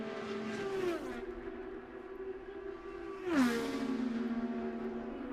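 A Penske IndyCar racing at Pocono screams at high revs, with two sharp downshift drops in pitch a couple of seconds apart before the engine settles into a steady, loud drone.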